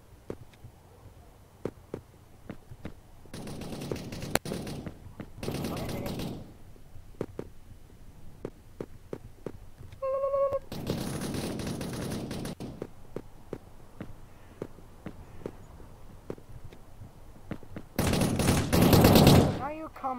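Bursts of AK-47 automatic gunfire in a first-person shooter video game, several loud volleys spread across the stretch with a lot of rapid clicks and small sounds between them and a brief tonal game cue in the middle.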